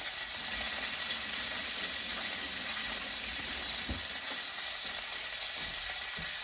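Pork chops fry in a pan with a steady, dense sizzle and crackle that runs unbroken throughout, with occasional soft knocks beneath it.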